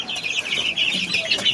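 A sick backyard chicken, one of several walking unsteadily as if paralysed, gives a short run of close, raspy clucks over a brief moment with no talk.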